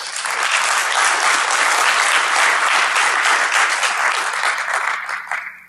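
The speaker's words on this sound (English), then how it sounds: "small applause for him if you're willing." A crowd at the DEF CON 21 hacking conference breaks into loud, dense applause that stays steady for several seconds before tapering slightly at the end.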